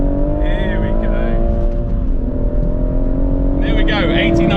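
A BMW M2 Competition and a BMW M140i, both six-speed manuals, launching side by side in a drag race: a loud, sustained engine roar climbing through the revs, with excited talk over the top.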